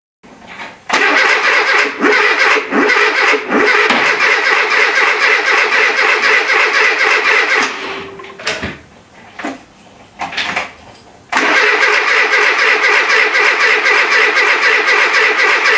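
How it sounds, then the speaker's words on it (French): A Renault C1J car engine bought from a scrapyard is cranked by its starter in two long, loud, rhythmic churning bursts separated by a short quieter pause with a few knocks. "Logiquement ça devrait démarrer, ou du moins avoir un meilleur résultat."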